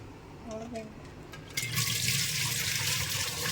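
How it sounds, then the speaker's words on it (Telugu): Rice is washed in water, with a soft swishing slosh and a brief trickle that rises into a steady close rush of running water, after a moment of quiet voice. "ఒక త్రీ టైమ్స్ క్లీన్ చేయాలండి బియ్యాన్ని"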